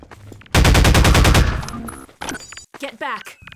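Rapid automatic gunfire in the Half-Life 2 Episode 2 video game, a loud close burst of evenly spaced shots lasting about a second, followed by scattered impacts and game effects with voices mixed in.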